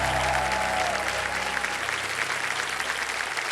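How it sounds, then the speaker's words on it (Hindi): Loud, dense applause from a studio audience on a Hindi television quiz show set, a steady wash of many clapping hands lasting the whole stretch, with a brief tonal musical sting fading at the start. "जोरदार तालियां बज जाए"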